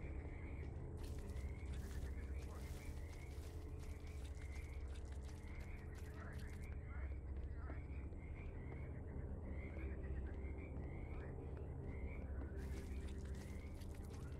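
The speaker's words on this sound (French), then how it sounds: "vers chez moi, il y a des mares et il y a beaucoup de grenouilles" Frogs croak in a pond setting in the video game The Land of Pain, a dense chorus of repeated croaks and chirps over a steady low ambient drone, continuous throughout.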